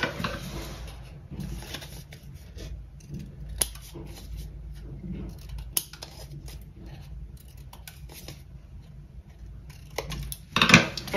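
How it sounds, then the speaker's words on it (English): Scissors snip off the corners of a paper pocket in close, crisp cuts spread irregularly across a quiet room, with a sharper rustle of paper near the end. "And so I'm just going to cut off the corners."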